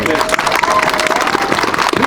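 A crowd claps steadily throughout a military lyceum graduation ceremony, a dense patter of applause with voices mixed in.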